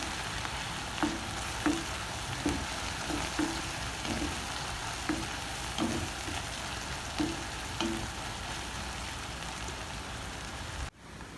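Onions frying in oil with cumin seeds in a pan for egg keema masala, a steady close sizzle with faint stirring taps recurring about every second, no voices.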